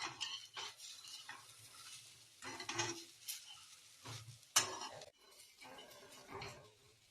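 Phunke fry in a pan while a spoon stirs them. Soft sizzling sits under intermittent scraping and clinking of utensil against pan, with one sharp metallic knock, all fairly quiet and close.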